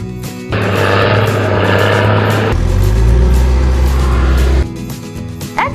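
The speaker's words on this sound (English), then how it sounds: "Bulldozers are big, powerful wrecking machines." Bulldozer engine runs loud and close with a heavy low rumble, shifting in pitch partway through as if throttling, then dropping away near the end.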